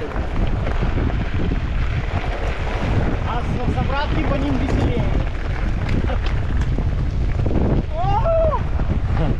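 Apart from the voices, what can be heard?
wind blowing during a bike ride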